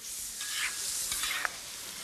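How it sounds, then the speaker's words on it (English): A spatula stirs a Chinatown-style stir-fry of cherries and scallions in a hot pan, a steady soft sizzle with a few scraping strokes and one sharp clink near the end, no voices. "We'll give it one more stir to coat it up."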